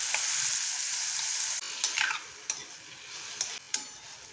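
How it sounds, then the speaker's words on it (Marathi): Marinated prawns fry in a hot pan with a steady, loud sizzle, broken by several sharp scraping stirs of a spatula against the pan. "दोन ते 3 मिनटं आपल्याला छान असं परतून घ्यायचं आहे कोळंबीला."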